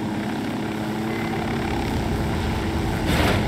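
Steady whirring rotor and engine drone of a helicopter in Ghost Recon Wildlands, loud and close throughout, swelling briefly near the end.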